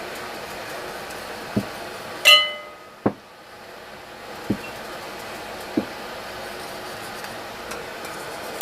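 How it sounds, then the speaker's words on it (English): Glass watermelon jelly jars flipped upright on a counter, giving one bright clink and a few soft, scattered knocks against a quiet room background, with no talking. "We'll flip our jars back over."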